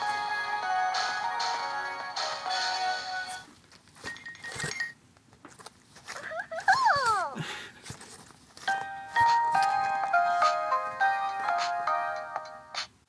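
A Fisher-Price Giggles and Growls Monster toy plays bright electronic chimes and short tunes in bursts, with a playful giggling, voice-like sound in the middle, close and fairly quiet.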